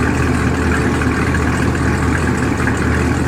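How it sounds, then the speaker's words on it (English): A deep, steady Camaro engine idle rumbles continuously through aftermarket exhaust, loud and close, with a low throbbing pulse and no voices. "We should let them both idle together so they can hear what they sound like."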